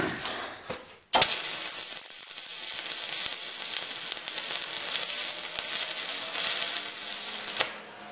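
Welding short one-inch beads on a welding table built from junk steel: a steady loud crackling sizzle of the arc running for about six seconds, close by, starting and stopping abruptly.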